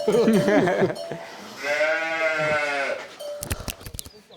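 Sheep that feed on wafer biscuits bleat loudly nearby, with a long wavering bleat in the middle, close voices around it, and clicking, clattering noises at the end.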